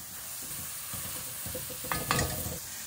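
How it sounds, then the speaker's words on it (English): Brandy apples simmering in melted butter in a pan, a soft low bubbling sizzle with a few gentle stirring scrapes and a brief brighter clatter near the end, no voices. "Now the butter's melted. I'm popping in the brandy apples. Bring them to the simmer."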